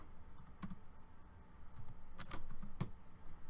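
Typing on a computer keyboard: scattered quick key clicks and taps, close and fairly faint, coming in short irregular bursts with a couple of sharper presses.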